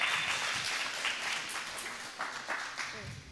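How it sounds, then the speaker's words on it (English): An audience gives a round of applause, a soft and fairly distant patter of many hands that tapers slightly, with voices heard over it. "All right, round of applause"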